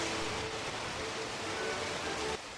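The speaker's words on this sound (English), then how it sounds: "It was a major hailstorm." Hail pours down in the old town of Lucerne on a warm early-summer day, a dense steady hiss of pelting ice that holds constant before cutting off abruptly near the end.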